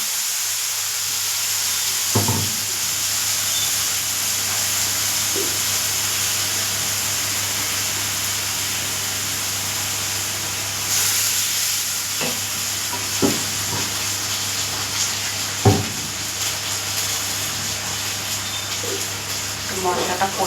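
Spice paste of ground cumin, coriander and black, red and white mustard seeds frying over low gas heat, a continuous soft sizzle with occasional clinks and scrapes of stirring.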